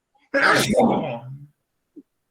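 A single loud, forceful sneeze bursts out in a classroom during a Spanish-language lesson, followed by a short faint sound and then quiet.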